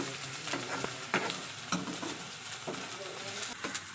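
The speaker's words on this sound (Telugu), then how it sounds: "ఇప్పుడు అల్లం వెల్లుల్లి పేస్ట్ వేసి బాగా పచ్చివాసన పోయేదంతకు వేపాలి" Ginger garlic paste frying with onions in a pan, a steady, close sizzle broken by repeated scraping stirs from a spoon against the pan.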